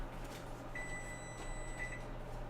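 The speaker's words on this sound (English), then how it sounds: "that's our 10-minute timer" A kitchen timer set for 10 minutes beeps in a home kitchen, a steady high electronic tone lasting about a second with a short repeat, faint over a low background hum.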